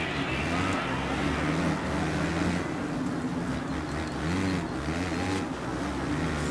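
A KTM motocross bike engine in the MXGP3 video game, ridden on the Maggiora track, drones steadily with layered harmonics and slight rises and dips in revs, loud and continuous with no talk.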